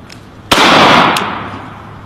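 A single sharp gunshot from a rifle fired in semi-automatic mode at a shooting competition, loud and close, with a broad noisy tail that fades over about a second and a faint click after.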